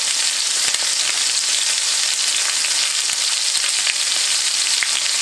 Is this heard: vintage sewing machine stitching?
no